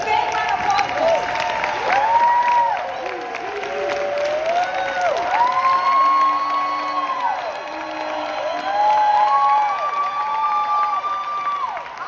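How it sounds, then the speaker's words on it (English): An audience claps, cheers and whoops for a speaker being introduced at a training event, a dense crowd roar with shouted voices rising and falling in waves over sustained clapping. "Can we give a big round of applause, please?"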